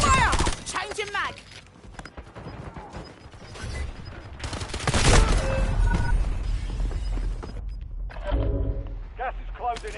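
Video game gunfire in Call of Duty Warzone: bursts of shots and crackling rounds sound under in-game radio callouts and voice lines, swelling loudest mid-clip amid busy battle effects.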